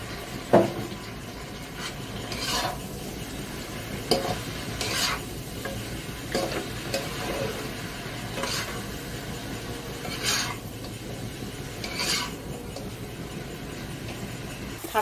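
Greens stir-fried with crushed ginger and garlic in a pan over a steady sizzle, with a spatula scraping and turning them in regular strokes, close and clear with no one speaking.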